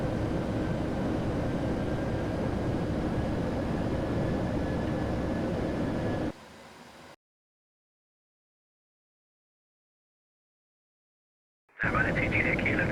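Cabin of a Ryanair airliner descending on a Dublin to Birmingham flight: a steady, broad engine and airflow roar that fades, cuts to silence for several seconds, then returns with a pilot's radio chatter.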